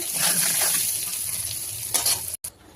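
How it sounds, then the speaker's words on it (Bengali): Potatoes fry in hot oil in a wok with a continuous close sizzle and faint stirring, then cut off abruptly near the end. "তেলটা গরম হলে আমি আলুটা ভেজে নেব।"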